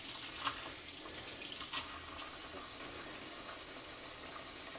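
Steady rushing water flows and splashes continuously, with a couple of brief gurgling spurts, as water drains out of the hot water tank of a 2025 Forest River Puma RV.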